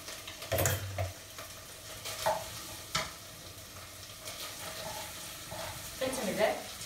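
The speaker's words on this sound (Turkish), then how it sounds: "Birazcık da etimi kavuracağım." Boiled meat sautés in a pan with onion and tomato paste. A soft, steady sizzle runs throughout, broken by several scraping stirs of a utensil against the pan.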